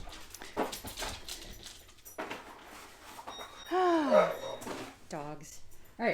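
Dogs whimpering in high, wavering whines, with panting and snuffling nearby, mixed with brief indistinct human voice sounds in a home setting.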